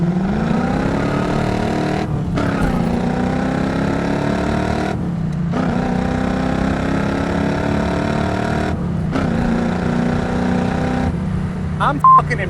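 A 1979 Pontiac Trans Am's original 400 engine drones steadily and climbs in pitch, dropping briefly at each shift of the 4-speed before pulling up again, heard from inside the cabin.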